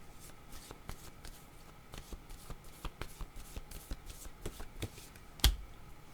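Tarot cards are shuffled and drawn for a reading, giving a quiet, close series of soft riffling flicks and snaps in an irregular rhythm, ending with one sharper card slap.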